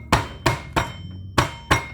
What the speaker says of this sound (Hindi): किसी प्लास्टिक में डालिए और उसको जनाब इस तरह कूट दीजिए